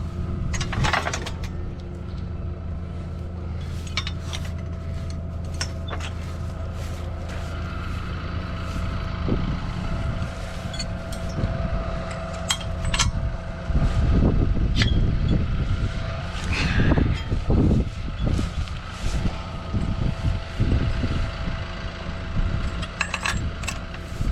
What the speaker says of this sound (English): This is actually my neighbor's sprayer and tractor